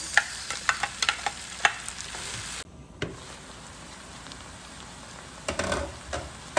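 Kale with mushrooms sautés in a pan, a steady close sizzle broken by scraping stirs, with no talk.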